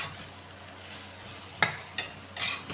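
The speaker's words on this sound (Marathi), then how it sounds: "थोडंसं मिक्स करून घेऊ हे मीठ टाकलेलं." Salted bitter gourd pieces are stirred in a pan: three sharp spoon scrapes near the end break a quiet, faintly hissing background.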